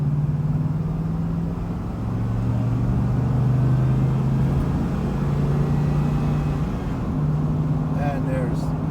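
A 1980 Pontiac Trans Am Bandit Special Edition accelerating through the gears, its engine droning steadily with a pitch that rises and shifts across gear changes, loud and continuous under the ride.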